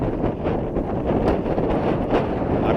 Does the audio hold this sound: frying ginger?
no